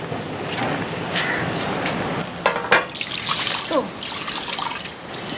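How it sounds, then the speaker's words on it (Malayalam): Water poured into a cooking pot while preparing Kerala-style beef fry: an uneven splashing trickle with drips and bursts, fairly close and fluctuating. "വെള്ളം ഒഴിച്ചാൽ മതി."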